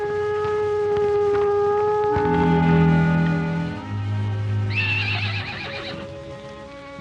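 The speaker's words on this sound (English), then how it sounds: "It's your horse." A horse neighs loudly, a long whinny rising and falling in several wavering bursts, with low tones droning underneath.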